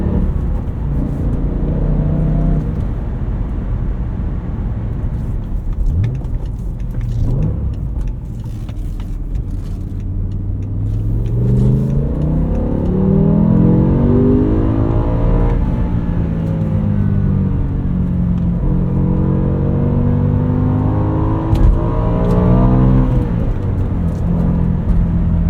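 A BMW M5 E60 with a V10 and a six-speed manual, heard from inside while driving as the engine pulls up through the revs, drops on shifts and climbs again in rising sweeps over steady road rumble.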